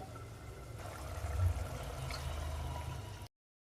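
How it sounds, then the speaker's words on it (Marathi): Hot water pouring into misal cooking in a pan, a soft continuous splashing trickle that swells midway and runs steadily for about three seconds before stopping abruptly. "पाणी गरम केलेलं आहे आता आपण टाकूया"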